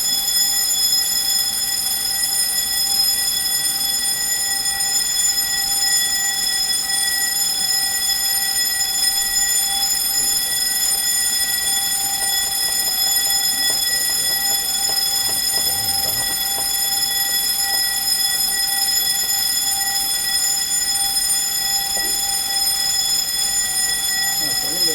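A bell rings in a long, steady, unbroken tone that persists over a constant background hum during an online information session.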